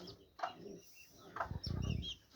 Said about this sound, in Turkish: Bir tane horoz, üç tanesi tavuk olacak.